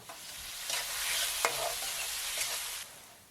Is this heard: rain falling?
no